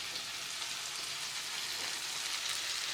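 Cauliflower and potatoes fry in a pan at home, giving a steady, continuous hiss and sizzle at moderate loudness throughout, with no talking.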